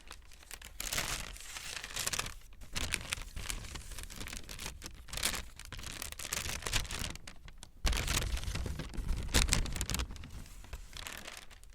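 A roll of yellow tracing paper is crinkled and crumpled close up in bursts of crisp, papery crackling, with brief pauses between handlings.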